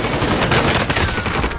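Automatic gunfire in Call of Duty Warzone, a loud, dense rapid burst of shots filling the whole moment, close and continuous.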